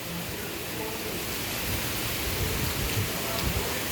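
Heavy rain pours down in a dense, constant roar, close and loud throughout, with no voices.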